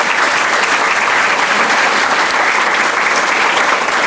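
Loud, dense audience applause for a young singer at an Army garrison change of command ceremony, steady and unbroken from start to finish.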